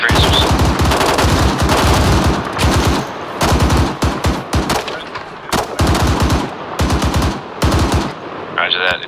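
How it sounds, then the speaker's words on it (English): Machine gun fire in the Arma 3 military shooter, loud rapid bursts of automatic fire repeating in long and short strings, with faint voices underneath. "Machine gunner set up."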